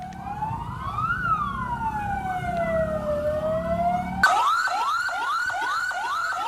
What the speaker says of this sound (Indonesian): Petugas mengerahkan 10 unit mobil damkar guna melokalisir api agar tidak meluas.